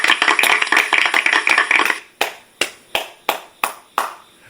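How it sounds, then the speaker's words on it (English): A small group claps briefly in a dense burst for about two seconds, then a single pair of hands continues with six slow, loud, evenly spaced claps. "Get a round of applause."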